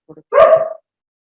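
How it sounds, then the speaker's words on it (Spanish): Dog barking at home, one loud close bark preceded by a couple of short soft yips, then silence. "si no se le da por más ladrar un poquito más"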